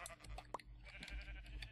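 Sheep bleating in Minecraft, a few short faint calls standing out over a low steady background hum, with one brief sharper bleat near the middle.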